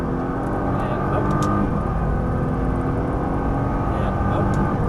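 Nissan GTR accelerating hard around a race track lap, a steady loud engine roar inside the cabin with a driving instructor talking over it throughout.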